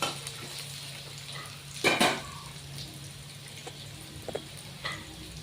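Onion, green chili and peanuts fry in hot oil in a pan, giving a soft, steady sizzle, with a brief clatter of stirring around the middle and a few light spoon taps later.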